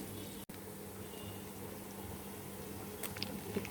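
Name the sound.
onions frying in a pan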